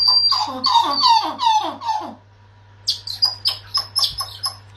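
Emperor tamarins give rapid series of high, chirping and twittering calls, a burst, a brief pause, then another busy run of calls.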